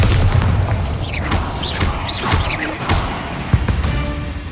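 A Bombarda spell explosion goes off in Hogwarts Legacy, a dense, booming blast with whooshing swells and crashing impacts that rolls on loudly for several seconds, with a sharp hit near the end.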